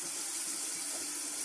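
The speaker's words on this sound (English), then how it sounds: "Need it to warm up just a little bit, so I'm warming up the water" Tap water runs steadily into a bathroom sink as it warms up, a soft, even hiss held for the whole moment with no talking.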